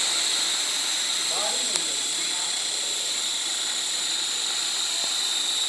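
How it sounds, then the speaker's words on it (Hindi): A steady high-pitched whirring buzz of a small remote-control toy helicopter rotor hums throughout on a windless day, with faint voices in the background. "हेलीकॉप्टर"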